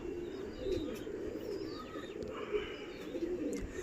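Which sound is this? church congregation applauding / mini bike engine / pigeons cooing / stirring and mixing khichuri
pigeons cooing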